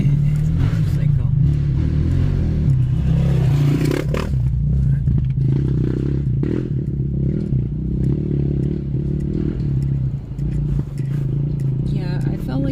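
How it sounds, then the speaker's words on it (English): A motorcycle passes a Jeep on the Peter Mill Run off-road trail, its engine rumbling loud and close over the Jeep's own low drone, with clattering from the rough track and voices talking inside the vehicle. "it's a motorcycle."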